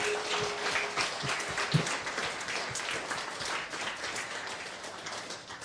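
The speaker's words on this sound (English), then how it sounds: "Please give you a round of applause to everybody here." A round of applause from the audience at a political candidates forum: a modest, somewhat distant patter of many hands clapping, steady and fairly quiet, with no talking over it.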